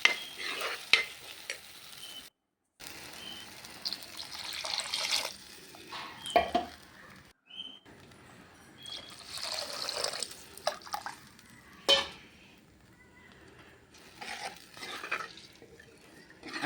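Water goes into fish curry masala in a pan and is stirred, giving intermittent scraping, splashing and faint sizzling with brief pauses and no talk.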